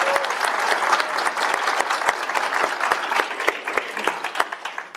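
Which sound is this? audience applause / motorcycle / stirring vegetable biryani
audience applause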